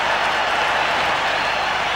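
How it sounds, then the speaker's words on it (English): A large cricket stadium crowd at a World Cup match between India and Sri Lanka roars and applauds a boundary four, a loud, continuous wash of cheering and clapping. "Listen to the crowd. The crowd says it all."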